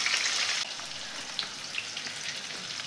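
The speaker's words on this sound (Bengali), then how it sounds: "এবারে এর ভেতরে পেঁয়াজ কুচিগুলো দিয়ে ভাজবো।" Chopped onions sizzle steadily as they hit hot white oil in a wok, with a loud hissing fry that eases slightly after the first moment and continues evenly with faint crackles.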